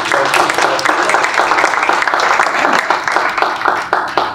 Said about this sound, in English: implore everyone to give Anne Miskey a little round of applause